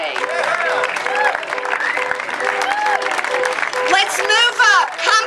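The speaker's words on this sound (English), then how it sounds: "Let's give yourselves a big hand for being here today." An audience at a speech by a speaker claps throughout as the speaker's voice carries over the steady, fairly close applause.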